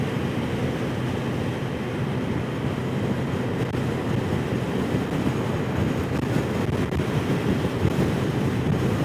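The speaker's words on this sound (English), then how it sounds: "The wind is not that bad." Steady, roaring wind buffets the microphone while riding a 2021 Kawasaki Z H2 SE motorcycle at about 58 mph, a constant broadband rush with no talking.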